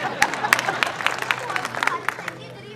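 A minister and an audience clap with scattered, uneven sharp claps that stay close and fairly loud over a short burst of applause.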